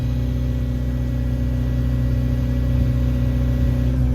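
A truck engine runs steadily under load, a loud, continuous low drone with a constant hum and whir and no break across the whole stretch.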